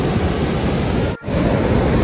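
Ocean waves at My Khe beach in Danang, Vietnam: a steady, dense roar of surf with a brief dip in the middle, loud and continuous, with no voices.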